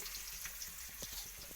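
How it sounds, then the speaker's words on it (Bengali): Bitter gourd pieces frying lightly in mustard oil, a soft continuous sizzle with faint crackles and small popping taps, fairly quiet and close, no voices. "করলাগুলো আগে তুলে দেবো, হালকা করে ভাজা করে নেবো"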